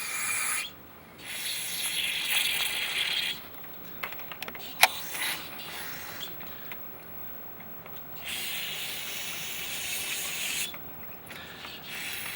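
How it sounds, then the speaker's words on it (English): Carburetor cleaner sprays in hissing bursts through the orifices of a John Deere 185 riding mower carburetor, three longer blasts separated by pauses, with small clicks and handling noises between them. "I'm going to blow all these out with carburetor cleaner"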